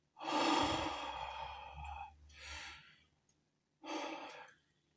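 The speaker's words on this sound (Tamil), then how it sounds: "மறுபடியும் மூச்சு விடுவார்." An actor breathes on stage in a drama, with two long, loud breaths, each a heavy sigh-like exhale, the first with a low rasp beneath it, close and alone.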